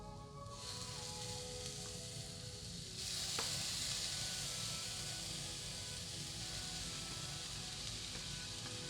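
Green pepper sizzles in a hot pan for shakshuka, a steady close frying hiss that grows louder and brighter a few seconds in as the pepper is stirred, with no voices.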